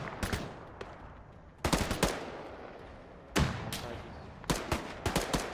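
Gunfire crackles in a military tactical shooter game firefight, with several sharp bursts and single shots in uneven clusters, loud and close, separated by short quiet gaps.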